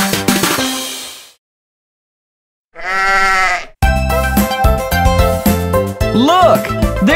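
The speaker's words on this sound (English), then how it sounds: "Look, there's Baba Black Sheep with the best wool in town." A loud, wavering bleat rings out alone after a pause, then music with bright chimes plays on.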